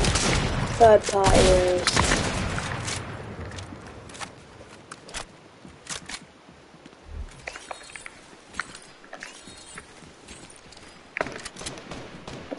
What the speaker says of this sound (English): now people are shooting from middle